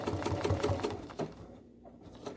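Bernina sewing machine fitted with a #50 walking foot, stitching through thick quilt layers at a corner: a quick run of rhythmic needle thumps, a brief pause, then a single final stroke, close and moderately quiet.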